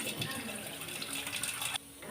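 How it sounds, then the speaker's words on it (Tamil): Rice is washed in water, with close, steady splashing and trickling that swishes along, then cuts off sharply into quieter dripping. "அதனால் இதை இன்னொரு தண்ணி கழுவிப்போம்"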